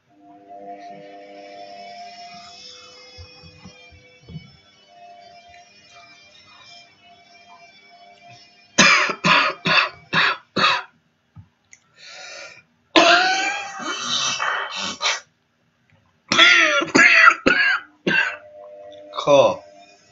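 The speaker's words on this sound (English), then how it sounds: "Cough." Several harsh coughing bursts, close and loud, in clusters after a quiet stretch with faint background voices and whistling tones.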